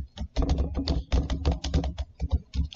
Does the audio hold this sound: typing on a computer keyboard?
yes